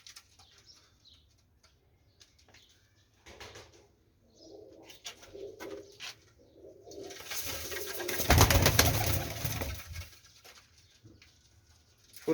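Several Teddy pigeons, a group of seven, coo in soft repeated murmurs alongside faint wing flutters and patter, building to a louder, fuller burst of cooing near the end.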